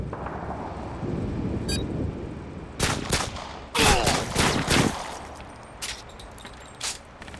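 Gunshots ring out during a competitive video game match, several loud sharp cracks clustered together with short gaps, one early faint blip and a few lighter shots trailing off afterward.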